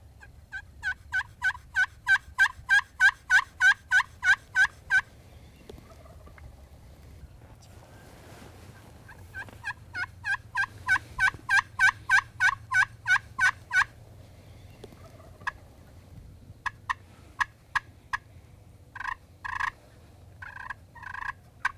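Wild turkeys gobble in answer to a hunter's turkey call, loud rapid bursts of clucking calls repeating in long rhythmic runs, pausing, then resuming, with a low wind rumble underneath throughout.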